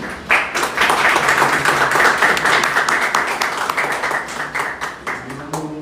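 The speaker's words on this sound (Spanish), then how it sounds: "Un aplauso, por favor." Audience applause at a university panel on conservatism in Peru, loud and close, many hands clapping at once before thinning toward the end.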